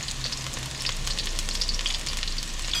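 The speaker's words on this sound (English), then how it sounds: "Alright, so we're cooking this catfish curry now." Catfish curry frying in a pan, a steady, close crackling sizzle with bright spitting pops throughout, heard alone without talk.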